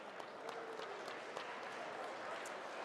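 A conference audience applauds at a gala follow-up session, a steady, dense patter of many hands clapping at moderate distance, sustained throughout without a break.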